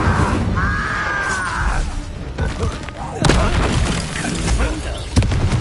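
Hogwarts Legacy combat with the Incendio fire spell: loud, continuous roaring blasts and booms with sharp impacts partway through, a whistling magical tone early on, and a voice briefly heard amid the chaos.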